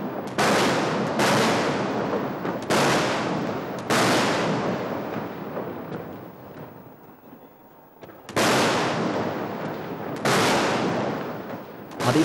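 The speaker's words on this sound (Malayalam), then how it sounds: "പാറമേക്കാവ് വിഭാഗം വെടിക്കെട്ടിന് തിരികൊളുത്തിയത്." Daytime fireworks at the Thrissur Pooram festival, with a series of heavy booming blasts, each with a long rumbling decay, some in quick pairs, loud and distant-sounding with no talking.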